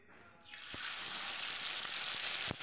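Small morla fish sizzling steadily in hot oil, a loud continuous crackle that starts abruptly as they go in, with a couple of sharp pops near the end.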